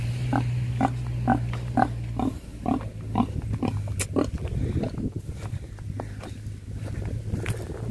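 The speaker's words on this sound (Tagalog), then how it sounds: "Yung alaga nating baboy." A farm pig grunts in a regular series of short, close oinks over a steady low hum, followed by footsteps and shuffling noises as the grunting becomes sparser.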